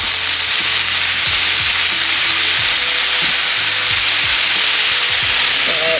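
Vegetables and mushrooms hit hot oil in a pan for pepper steak, producing a loud, continuous close sizzle with scraping stirring strokes cutting through it.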